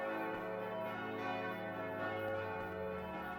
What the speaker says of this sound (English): Nope, we're getting the bells again.